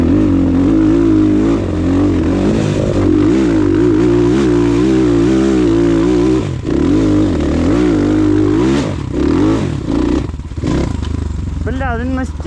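A loud Rottor Bronx 300 enduro motorcycle engine roars up close, revving and shifting pitch continuously, with wind rush and occasional talking underneath.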